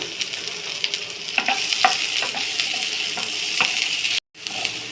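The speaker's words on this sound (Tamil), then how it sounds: "பூண்டு 2 காஞ்ச மிளகா, 2 பச்சை மிளகா, வெங்காயம், சின்ன வெங்காயம் போட்டு கொஞ்சம் வதக்கிக்கலாம்" Garlic, dried and green chillies, onions and small onions sauté in a pan with a continuous sizzle and scattered utensil scrapes and taps, broken by a brief drop to silence near the end.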